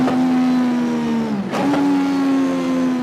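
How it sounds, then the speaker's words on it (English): A racing-style Indy car engine note, held as a loud steady drone with a brief dip and swell partway through, like a pass or rev change, with no voices. "It sounds like an Indy car, which it's supposed to sound like."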